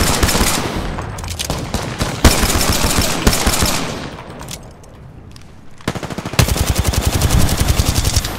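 Sustained bursts of automatic gunfire in a shooter game, loud and close, with dense rapid volleys broken by a brief lull before another heavy stream of shots.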